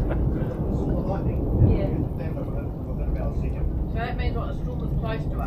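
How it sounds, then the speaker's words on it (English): Thunder from a storm directly overhead at sea off Montenegro, heard from a boat, rumbles low and heavy through the whole stretch with rolling swells, while people talk over it. "If you see the lightning and you hear the crack at the same time, you know it's on top of you."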